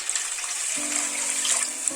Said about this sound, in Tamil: தண்ணியை ஊற்றிக்கணும்.